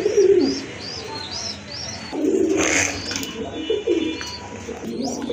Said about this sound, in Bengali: কবুতরগুলো কিন্তু মাশাল্লাহ দেখার মতো।